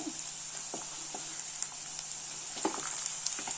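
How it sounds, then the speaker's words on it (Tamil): Onion, garlic and curry leaves sauté in a pan for garlic chutney, a steady low sizzle with a few faint stirring clinks, quiet and close. "பாருங்க, நல்லா வதங்கிருச்சு வெங்காயம் பூண்டு எல்லாமே."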